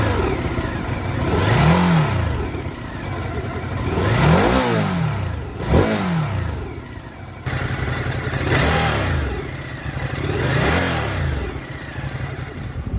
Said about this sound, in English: just a little start up of the motor, see what the engine sounds like